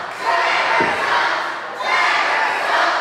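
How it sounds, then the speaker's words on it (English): Indie wrestling crowd at an Imperial Wrestling Entertainment show roars with steady cheering and shouting throughout, a dull thud near the start, the noise swelling again in the second half. "This crowd is not giving Trevor any leeway."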